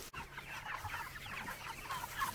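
Meat chickens exactly 6.5 weeks old cluck and chatter in a group on a farm, a continuous busy murmur of close birds with no speech over it.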